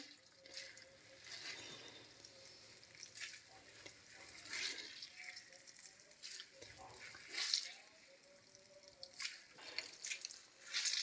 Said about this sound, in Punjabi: ਸਾਰਾ ਪਾਣੀ ਮੂਲੀਆਂ ਦਾ ਕੱਢ ਦੇਵਾਂਗੇ ਵਿੱਚੋਂ